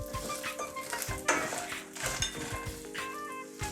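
A cup of roasted peanuts tumbles into a hot frying pan, a sharp rattling burst over steady oily sizzling and scraping stirs, close and fairly loud.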